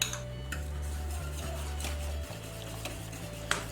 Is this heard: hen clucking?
no